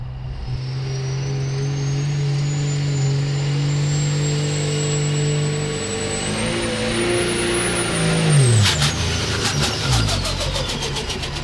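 A Ford truck at a sled pull, its engine revving up loud and steady with a rising turbo whine, holding high, then dropping off sharply with rough low chugging toward the end.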